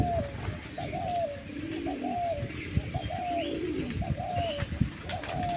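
Doves coo repeatedly in short rhythmic phrases, several calls overlapping near and farther off, over a rustling, busy background with scattered clicks and no speech.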